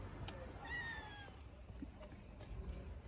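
A pet cat lets out one short, clear meow at close range, followed by faint rustling and small handling noises.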